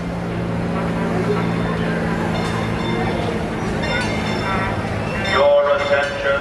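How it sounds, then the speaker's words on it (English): A Disneyland Railroad steam train pulls into a theme park station with a low rumbling drone and rising mechanical clanks, ending in a short whistle-like tone, while people talk nearby. "Just in time, the train is arriving at the station."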